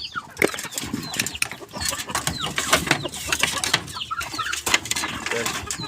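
Native chickens cluck and chatter in a yard, several birds calling in quick irregular bursts close by, mixed with rustling and a faint background engine hum.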